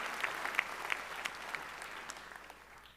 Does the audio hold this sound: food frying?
no